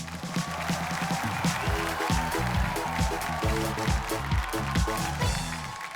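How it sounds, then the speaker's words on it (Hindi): Studio audience applause greeting a guest on the Hindi TV game show Movie Masti with Maniesh Paul: a loud, steady wash of clapping laid over rhythmic band music for the full stretch. "एक बार जोरदार तालियों से आइए सर"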